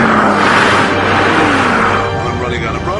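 Mercedes SL Brabus S V12 S Biturbo roadster at very high speed on a runway, a loud roaring engine with rushing wind noise easing slightly toward the end, with someone talking over it.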